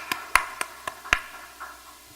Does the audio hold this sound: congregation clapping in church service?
yes